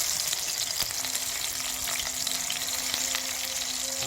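Eggs and onion, with cumin and a cardamom pod, fry in a pan with a constant close hiss and crackle, steady from start to end and free of speech.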